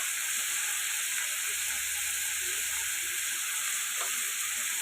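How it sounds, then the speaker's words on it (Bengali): Potatoes and onions frying in a pan with salt produce a constant close hiss and sizzle, with a few faint stirring sounds and no talk. "আলু পেঁয়াজটা ভেজে আমি ফিরে আসছি"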